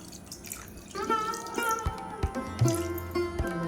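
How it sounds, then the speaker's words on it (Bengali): Ganges water poured over a Shiva idol during a Shravan Monday puja, heard as a steady close trickle and splash with dripping, ringing tones over a soft background and faint voice. "এবারে শুদ্ধ জল গঙ্গা জল সমস্ত ঢেলে দিচ্ছি"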